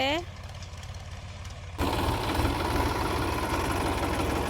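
A quiet hum gives way to a tractor engine starting up and running, with a low, steady rumble close by, during cumin sowing in a field.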